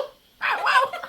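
A mimicry artist's voice imitates a dog crying: one short, whining, wavering whimper that rises and falls, close and fairly quiet after a moment of silence.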